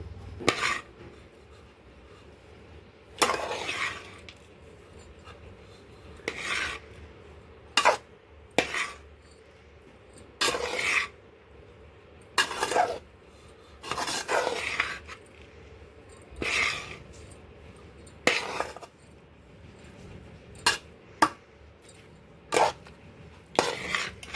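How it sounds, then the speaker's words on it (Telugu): Cooked rice being mixed in a metal pot for grated mango pulihora: sharp clinks and scrapes of a spoon against the vessel come at irregular intervals over a quiet background, close and fairly soft. "ఇప్పుడు దీన్ని అయితే బాగా కలుపుకోవాలి మనం"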